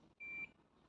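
An automatic hair curler gives a single short, clear electronic beep, a pure steady tone lasting about a quarter second against a quiet background.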